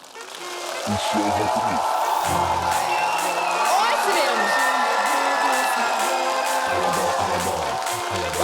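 Loud, sustained applause and cheering from a large audience, with whoops and music continuing underneath throughout.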